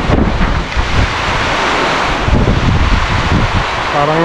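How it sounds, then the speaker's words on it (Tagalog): Strong typhoon wind roars and buffets the microphone in loud, continuous gusts, with rain mixed in. The noise is dense and unbroken, and no one speaks. "lakas ng hangin"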